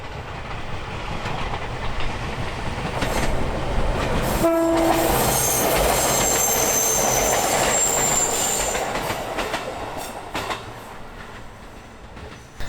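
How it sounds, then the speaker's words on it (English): A rural train rumbles past nearby with a short horn blast, squealing wheels and rattling cars, the roar swelling then fading. "Here comes a real rural train."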